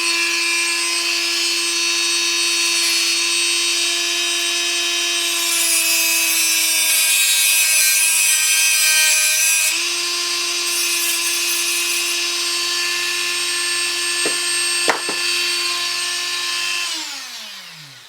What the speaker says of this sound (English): And now I'm going to cut those on 16 millimeters.